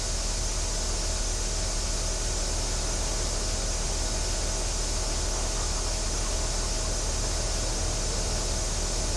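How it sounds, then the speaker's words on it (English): Steady, even hiss of a pressure washer spraying a farm vehicle in Farming Simulator 22, a constant broadband rush with a faint mechanical hum beneath and no voices. "Get some nice pressure air on it."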